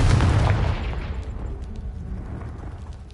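The Confringo blasting spell goes off in a Harry Potter video game as a single loud, booming explosion, followed by rumbling debris and crackle that fade away.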